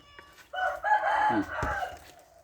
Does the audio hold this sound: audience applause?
no